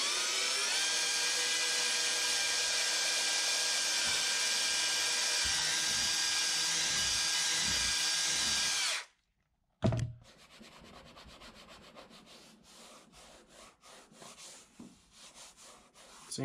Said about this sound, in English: I'm just going to drill an 1/8 inch pilot hole